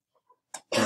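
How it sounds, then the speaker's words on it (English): One person in a classroom gives a brief rough cough after a couple of faint small sounds, close and fairly loud, with no talk. "who's got cough due to cold?"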